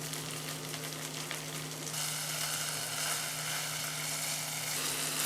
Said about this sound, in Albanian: Pasi i kemi skuqur pak, kanë marrë një skuqje të lehtë